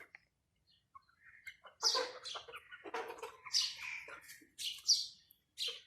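Chickens cluck and call near a water drinker on a poultry farm in summer heat, in short, fairly clear bursts with gaps between, loudest in the second half, with no talking.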